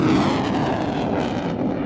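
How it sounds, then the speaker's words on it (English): An RAF Tornado jet at a Lossiemouth display gives a loud, sustained roaring rumble of engine noise, broad and heavy throughout with no pauses. "from Lossiemouth. Display of the RAF Tornado"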